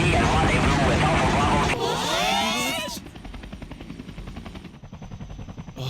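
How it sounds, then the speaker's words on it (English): A helicopter arrives in the Persona 5 video game, a dense loud roar that gives way to a fast rhythmic rotor chop, with voices talking over it. "A helicopter."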